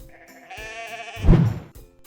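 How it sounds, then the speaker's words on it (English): A ram, a male sheep, gives a single drawn-out bleat that swells into a loud, rough, wavering cry and then trails off. "It's a ram!"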